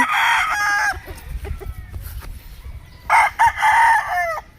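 A Boston Millionaire gamecock crows loudly nearby, two drawn-out calls separated by a brief pause filled with low background noise.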